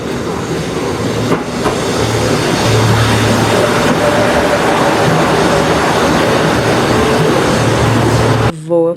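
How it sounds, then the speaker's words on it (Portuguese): A small two-car train rolls through rural rice-field country in Japan, a steady close rumble with rhythmic rail clatter that holds for about eight seconds before cutting away abruptly at the end. "esse é o meu próximo trem. Também é pequenininho, só tem 2 vagões."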